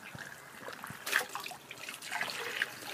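Freshly washed fleece drains quietly, with faint trickling and dripping of water in soft, irregular spurts.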